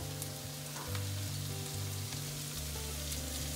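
Mushrooms and French shallots sizzle and crackle in a very hot pan over high heat, a steady close frying hiss with scattered pops, no talking.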